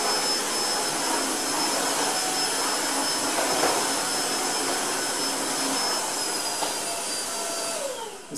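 A Tineco iFloor 3 wet-dry vacuum cleaner runs on a floor with a constant, close whirring hum and airflow hiss, steady throughout and alone.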